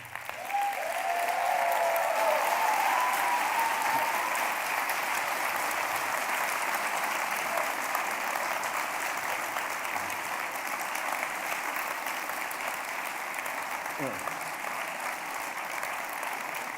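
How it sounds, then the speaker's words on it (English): A large audience applauds steadily to welcome philosopher Slavoj Žižek onto the festival stage, a dense, sustained wash of clapping that holds its level throughout, with a brief whistle-like tone near the start. "He stops the applause."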